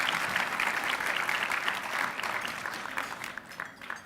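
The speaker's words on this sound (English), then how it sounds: "So please give Mickey Ibarra another round of applause." Crowd applause at an award ceremony where a mayor receives the Chairman's Award, a full, steady roar of clapping that gradually tapers off over a few seconds, with no talk.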